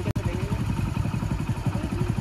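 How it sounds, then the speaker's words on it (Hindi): A motorcycle ridden outdoors in pleasant weather, its engine thrumming in a fast, steady pulse throughout, close and loud, with a brief sharp knock at the start. "मौसम का मजा लेते हुए बाइक की राइडिंग"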